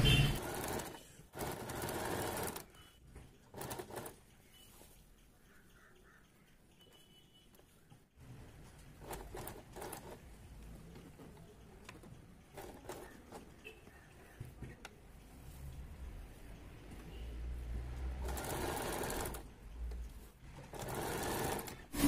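A sewing machine fitted with a piping foot stitches close along the edge of a sweetheart neckline, running in steady bursts of rapid mechanical whirring separated by short pauses, close and clear throughout.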